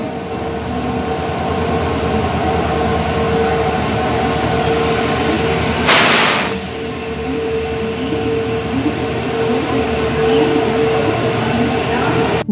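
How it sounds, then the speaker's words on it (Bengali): A delayed train pulling into a station platform, its heavy continuous rumble and rolling wheel noise close by, with a brief hiss partway through and murmur of people in the background. "6:15 ট্রেন এই ফাইনালি ঢুকছে"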